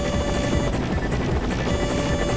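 Helicopter in the Garry's Mod video game: a loud, steady rotor and engine drone with a fast chopping pulse, continuous and close throughout, with no voices.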